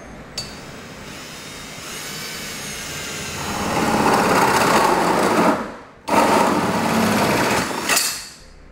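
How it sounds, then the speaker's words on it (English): A 4-inch hole saw cuts down through the steel bed of a 2016 GMC Sierra pickup, a steady high whine that builds into louder grinding, breaks off briefly, then resumes before stopping, close and with nobody talking. "Now we're going to take a 4-inch hole saw,"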